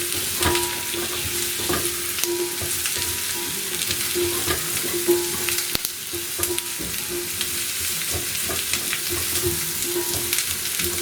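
About 250 grams of carrots sizzle and fry in a pot while being stirred, a steady crackling hiss with soft scraping strokes throughout, close and continuous.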